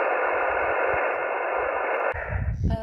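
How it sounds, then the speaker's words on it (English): Radio receiver hiss picked up through a dipole antenna: a steady, dense broadband static that holds for over two seconds, then a click and a brief shift into fainter tonal chatter at the end. "Dipole has the highest noise level."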